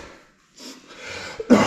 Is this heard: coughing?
yes